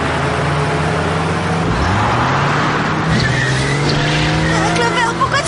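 A car speeds along with a strained, rising engine whine and screeching tires as it slips out of control, loud and continuous throughout.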